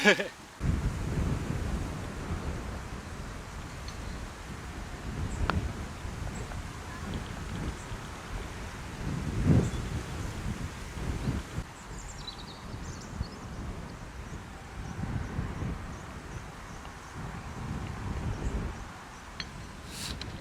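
Gusty wind on the Rhuys-Kerver golf course buffets the microphone in low rumbling bursts that rise and fall over a steady outdoor hiss.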